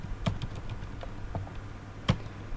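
A few light key presses on a computer keyboard as shortcut keys are hit to confirm a dialog in Tekla software, with soft scattered clicks and one sharper tap near the end, quiet and close.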